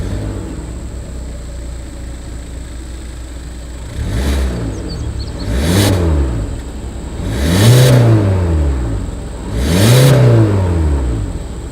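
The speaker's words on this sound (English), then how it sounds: "As always, here is that exhaust clip." A 2020 Hyundai Elantra exhaust at idle, then four rising revs with short gaps between them, each climbing and falling back, recorded close behind the car with no talk.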